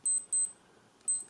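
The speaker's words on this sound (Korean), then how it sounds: "알람이 울리게 됩니다." Casio G-Shock 5610 digital watch alarm sounding: bright, high electronic beeps in quick double-pulse bursts, two bursts close together, a pause, then another burst, with a quiet room behind.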